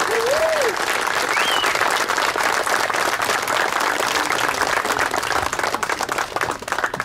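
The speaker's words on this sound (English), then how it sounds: "Give Marie a big round of applause" A ceremony audience gives Marie a big, loud round of applause, a thick, continuous wash of clapping with a couple of brief whoops near the start.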